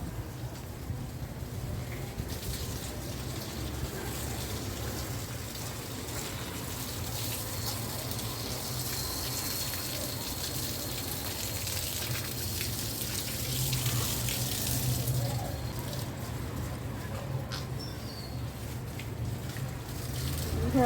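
Water runs steadily from a tap or hose outdoors for watering plants and washing, a continuous close hiss that holds at an even level for the whole stretch, with no voices.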